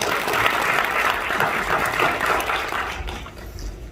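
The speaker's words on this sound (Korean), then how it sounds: "신승우님 나오실 때 뜨거운 박수 부탁드리겠습니다" An audience claps warmly at a youth proposal event, dense, steady applause for about three seconds before it begins to thin out.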